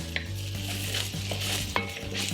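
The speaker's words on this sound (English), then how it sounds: "Stir all that in." A spoon stirs cayenne pepper and onion granules through a pan of vegetable chilli, with a steady low sizzle underneath and several brief sharp scrapes and knocks against the pan.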